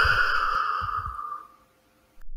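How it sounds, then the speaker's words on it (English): A patient lets out one long, deep exhale during a doctor's stethoscope check, a close breathy sigh that fades into silence before a faint sound near the end. "And breathe out deeply."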